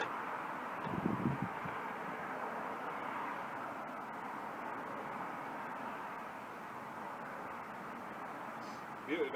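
Outdoor wind buffeting a microphone during a storm kettle test, a soft steady rushing low roar with brief louder gusts near the start and end.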